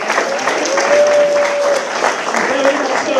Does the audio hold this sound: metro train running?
no